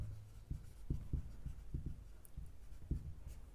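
Numbers being written on a board during a maths lesson, a quiet series of soft irregular taps and strokes close by, with no talk over them.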